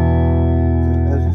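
A single heavily overdriven chord from a Gretsch electric guitar through two stacked overdrive pedals rings out loud and steady, then cuts off after about a second.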